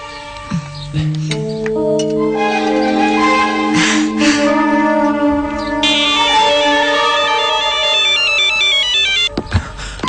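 A telephone ringtone plays continuously, a bright repeating electronic melody with layered tones, loud and close, with no talking.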